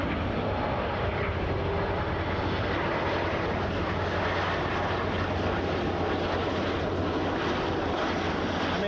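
An airliner in Swoop livery arrives on runway 24L at Toronto Pearson, its engines producing a loud, continuous roar with broadband rumble throughout and no speech.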